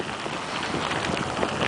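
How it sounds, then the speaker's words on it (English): Heavy rain mixed with hail falls during a trail ride, a dense constant patter and hiss with wind noise, loud and unbroken. "now it's full-on rain with hail"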